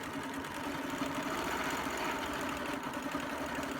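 A quilting sewing machine stitches along a Pro Circle template for a Baptist Fan border, giving a steady fast mechanical hum with rapid needle chatter, continuous and close.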